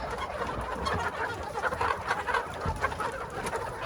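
Old hens cluck steadily in a busy flock, overlapping calls close by with a constant rustling background and no talking.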